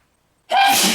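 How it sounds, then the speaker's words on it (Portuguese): Silence, then a single sharp sneeze bursts out close by, loud and breathy. "Eu vou espirrar?"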